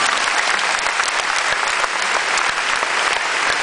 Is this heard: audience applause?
yes